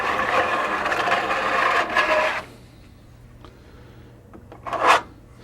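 A serrated-edge trowel spreads glue across a board in a steady rasping scrape for about two seconds, then falls quiet apart from faint handling clicks and one brief scrape near the end.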